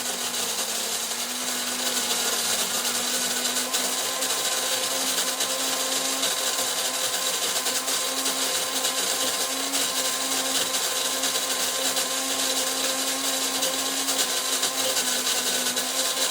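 Coffee beans for cold brew are ground coarse in an electric coffee grinder, a loud, close, continuous whirring grind with a faint wavering hum that carries on steadily without any voice.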